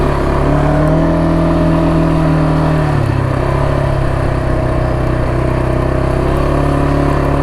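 A Kawasaki 300 quad's engine runs steadily during a break-in ride, a loud, continuous mid-pitched drone that drops in pitch partway through as the rider changes speed, with no talking.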